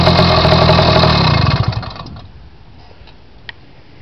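A 49cc motorized bicycle engine runs loud and close with a buzzing, rapid putter for about a second and a half, then sputters and cuts out, leaving near quiet with a single small click.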